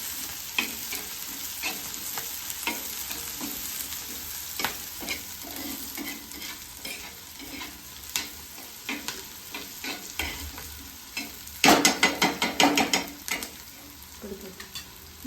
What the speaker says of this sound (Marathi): कांदा चांगला लाल होतो भाजी कांदा लाल बारीक घ्यायची